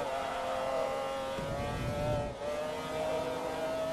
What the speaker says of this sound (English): Oh, this engine is so good.